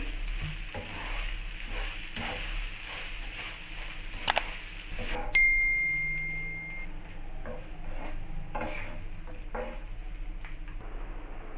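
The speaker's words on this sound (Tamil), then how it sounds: "சேர்த்துட்டு நல்லா கிளறி விடுங்க" Cooked rice being stirred into a curry leaf mixture in a hot pan, soft sizzling with repeated scraping and shuffling from a utensil, one brief clink midway, close and fairly quiet.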